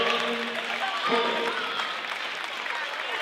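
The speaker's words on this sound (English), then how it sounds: "one more round of applause for the seniors of the Lady War Eagle basketball team" A crowd in a gym applauds the seniors of a girls' high school basketball team on senior night, with steady clapping while a voice talks over it.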